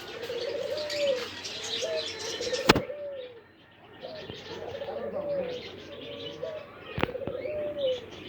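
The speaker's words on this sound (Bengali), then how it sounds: "এই জায়গায় ঘুঘু আছে, গুড় গুড় করতেছে।" Dove cooing in repeated soft, low phrases at a rural farm setting, mixed with other bird chirps, background talk and a couple of sharp knocks.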